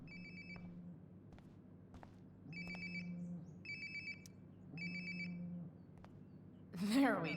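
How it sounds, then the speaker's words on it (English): Mobile phone in Life is Strange ringing with a repeating electronic ringtone, four bursts in a regular pattern, fairly close, followed by a short rustle at the end. "Sounds like my phone is definitely nearby."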